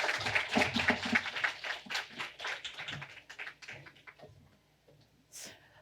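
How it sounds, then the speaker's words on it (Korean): A crowd of students and parents claps loudly in a large hall at a public hearing on university admissions reform. The applause is dense at first, then thins into scattered claps and fades near the end. "큰 박수로 맞이해 주세요."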